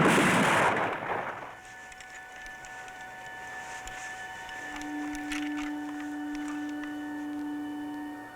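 A firing squad volley goes off in a 1970s TV horror film, with a single loud, broad blast at the very start that quickly fades into a lingering tonal hum and faint background noise.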